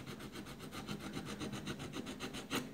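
Sandpaper fixed to a wooden stick rubs along the edge of masking tape stuck on a shoe last, a quiet, steady rhythmic scratching in quick repeated strokes, close and alone.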